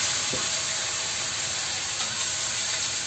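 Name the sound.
sautéing and simmering food in a pan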